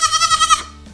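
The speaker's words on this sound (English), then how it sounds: "I think we should probably bring in a baby goat to sample some of this corn." A baby goat gives a single loud, close, wavering bleat lasting about half a second, with no talk over it.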